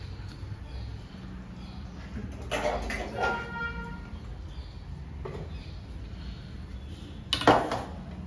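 Kitchen utensils and dishes being washed while cooking, with intermittent clinks and clatters of metal and crockery, a sharp burst of rattling near the end, and water and handling noises between them.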